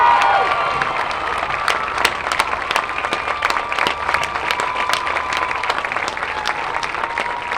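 A stadium crowd at a 2020 high school homecoming football game applauds and cheers steadily for the newly crowned homecoming queen, with dense clapping and scattered shouts throughout.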